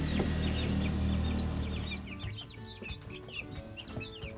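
Young pullet chickens cluck and chirp softly in a coop, a low rumbling background fading after the first couple of seconds and leaving a scatter of close peeps and clucks.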